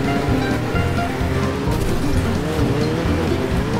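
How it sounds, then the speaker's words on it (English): A small car driving on a gravel track in the racing game Wreckfest, with a loud, steady engine drone and a continuous rushing crunch of tyres on loose stones, close throughout with no talking. "Let's try this stupid little car in the gravel."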